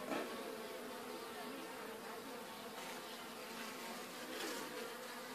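Honey bees buzzing steadily during queen rearing, a dense, continuous drone close by that swells slightly near the start and end, with no talk.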